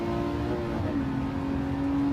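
Ferrari 512 TR flat-12 engine in the Gran Turismo 7 racing game, a steady droning hum with a faint pitch shift midway, holding at a constant moderate level with no voices.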